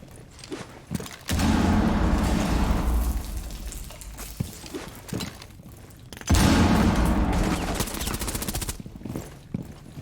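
Automatic gunfire in the Rainbow Six Siege video game, two loud sustained bursts of rapid shots with quieter single shots and impacts between them.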